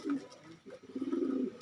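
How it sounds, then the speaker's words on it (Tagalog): Young pigeons coo close by in soft, low, throaty bursts, one short call and then a longer rolling coo, fairly quiet overall. "Medyo malakas na rin sila mga kalapatids eh."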